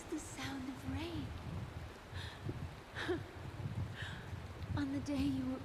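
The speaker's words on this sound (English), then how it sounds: "This is the sound of rain." Steady rainfall in the video game Honkai Star Rail makes a soft, continuous hiss throughout, with a few tonal voice-like sounds drifting over it.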